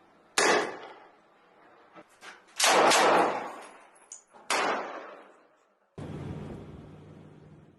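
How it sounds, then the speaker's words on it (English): Sharp, heavy blasts from explosions in military footage from rubble-strewn streets of Khan Younis, several loud bursts separated by short gaps, each decaying quickly, followed by a low rumbling tail. "released video footage showing two large explosions alongside soldiers advancing through the rubble-strewn streets"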